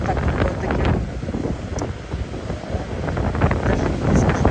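Strong gusting wind roaring across the microphone on the west coast of Tenerife, loud and continuous, with the wash of ocean surf beneath it.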